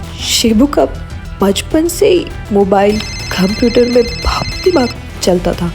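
A phone rings with a steady, high electronic tone for a couple of seconds, heard under continuous close talking.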